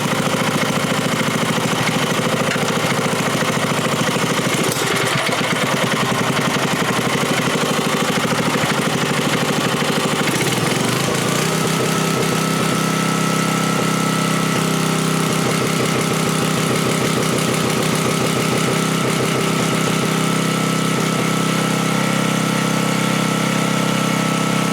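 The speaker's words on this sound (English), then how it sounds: "running engine" A 1974 Briggs & Stratton 5 HP small engine with a new carburetor runs steadily and loudly up close, a continuous idling drone with a slight shift in tone partway through and no voices.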